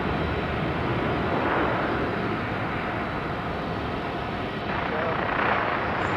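An airliner at Sydney Airport powers up for takeoff on runway 16 right, a broad, continuous engine roar holding steady and loud throughout, with a voice talking over it.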